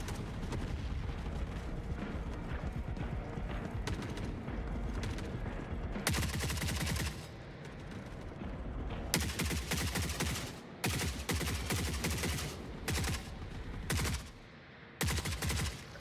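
Automated turrets firing in the video game Forever Winter: dense, continuous bursts of rapid gunfire and booming blasts, loud and relentless, with brief gaps between volleys.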